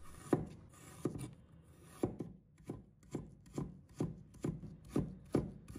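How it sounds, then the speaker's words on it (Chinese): A kitchen knife chops green onion into short pieces and ginger into shreds on a cutting board. About a dozen crisp, close knocks come at a steady, unhurried rhythm, with quiet scraping between them. "接下来准备1把小葱，把它切成小段 ；1块生姜，把它切成丝。"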